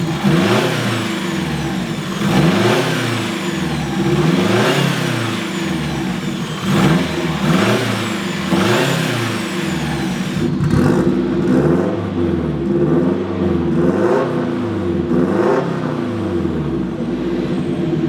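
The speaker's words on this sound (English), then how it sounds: "you can definitely hear the turbo" A turbocharged Mazda Miata engine revs up and down repeatedly in rising and falling sweeps, loud and close, with a steady turbo whine running through it.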